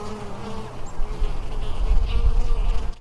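Bees buzz steadily around a backyard beehive on a warm, sunny day, a close, continuous drone of many insects that holds for the whole stretch with no talking.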